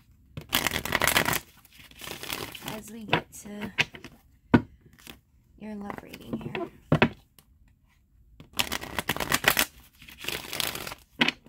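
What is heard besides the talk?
shuffling tarot cards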